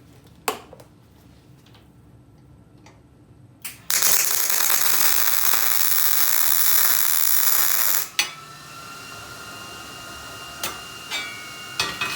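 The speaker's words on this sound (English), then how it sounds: "Weld on either side of the little piece, top and bottom." A small metal piece is welded for skull-shaped wall art, producing about four seconds of loud, continuous crackling hiss, with scattered sharp clicks and taps before and after.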